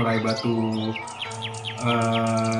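An oriental magpie-robin sings a lively series of chirps and whistled notes over a constant low hum, fairly close and clear.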